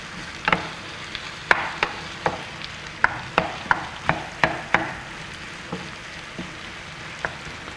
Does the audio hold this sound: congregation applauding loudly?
no